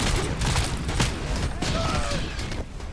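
A grenade and gunfire in the shooter game RoboCop: Rogue City: a dense, loud wash of rapid shots and mechanical clatter, with a bright whistling tone partway through, sustained for the whole span.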